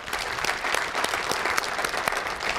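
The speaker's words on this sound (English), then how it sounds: "I think that deserves a round of applause as well." An audience at a school superintendent's state-of-the-schools address applauds, giving steady, moderately loud clapping from a crowd with a few sharper individual claps standing out.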